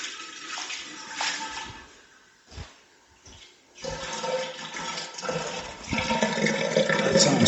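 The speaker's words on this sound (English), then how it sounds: "we will dump a bucket of water and let's see what it does" Water from a dumped bucket spreads and drains across an uneven garage floor, a continuous splashing, rushing wash that dips briefly, then swells louder and steadier toward the end, with no talk.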